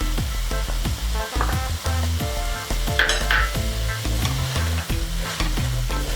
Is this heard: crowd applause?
no